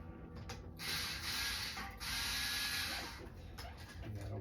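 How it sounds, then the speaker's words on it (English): Strings on a 2012 Gibson Les Paul Traditional Pro in Pelham Blue being slackened, heard as a close rasping, ratcheting turn of the tuners in a few bursts with brief pauses between them. "Now to slack the strings."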